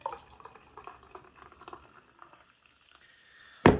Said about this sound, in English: try to pour the Coors Light in.